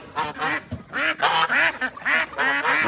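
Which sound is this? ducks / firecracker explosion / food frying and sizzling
ducks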